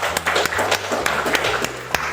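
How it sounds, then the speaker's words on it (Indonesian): Applause for Pak Ferry and Pak Budi Purnomo at a school positive-culture dissemination session, a modest scattered clapping from a small audience with distinct individual claps, close and fairly loud. "Kita kasih tepuk tangan kepada Pak Ferry dan Pak Budi Purnomo."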